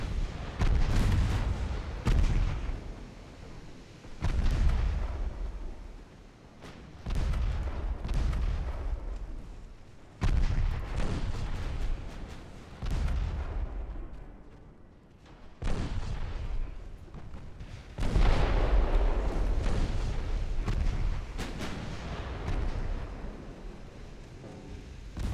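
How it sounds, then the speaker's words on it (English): Battleship secondary guns firing at close range in a naval warfare game set in 1904, a rapid series of loud booming gunfire blasts with rumbling tails, bursts repeating every few seconds with no pauses. "See what the battleship secondaries can do at this close range."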